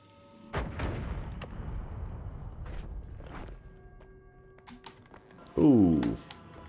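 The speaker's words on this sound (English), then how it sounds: "May have to use the bomb." An in-game bomb detonating in a shooter: sharp booming blasts with rumbling decay, scattered smaller impacts, and a loud sweeping burst near the end, heard alone and fairly close.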